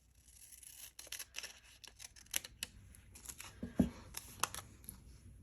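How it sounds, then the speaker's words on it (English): Scissors cutting the edge of snowman-themed wrapping paper, a series of soft, quick snips and paper rustles at close range, fairly quiet and without speech. "So let me go ahead and cut this edge off."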